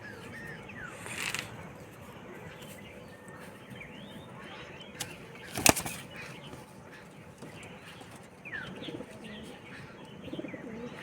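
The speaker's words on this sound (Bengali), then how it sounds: "পায়রাটা খুব ছটপটে।" A restless pigeon at a pigeon loft, with coos and chirps over a steady background and a sharp burst midway that fits wing flapping.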